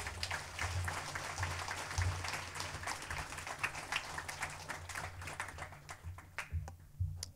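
A church congregation claps in praise at the close of a prayer, scattered and uneven hand claps over a low hum, trailing off near the end.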